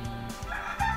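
A rooster crows inside a Nancy Drew adventure game, a short, fairly faint game sound effect sung out in one drawn call.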